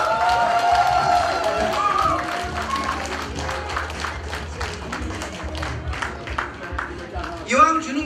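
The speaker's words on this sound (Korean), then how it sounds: "박수 한번 부탁드립니다" Dense applause from a crowd at a mountaineering club's year-end party, many hands clapping together under a steady murmur, with someone speaking over the start and a voice rising near the end.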